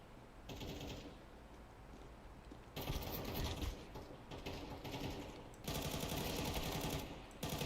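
Rapid mechanical clattering and gunfire-like bursts from a video game, including a weapon reload, come in loud, dense stretches broken by brief lulls.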